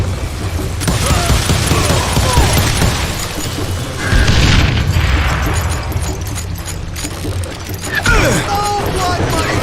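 Gunshots from the Western shooter game Call of Juarez: Gunslinger, with sharp bangs near the start, around four seconds and again near the end, set in a dense, loud game soundtrack while someone talks over it.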